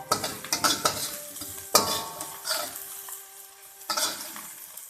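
Garlic and coriander frying in a pan for a Chinese dish, sizzling under brisk irregular stirring with metal utensil scrapes and clanks against the pan, close and fairly quiet.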